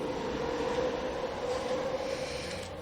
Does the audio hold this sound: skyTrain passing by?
yes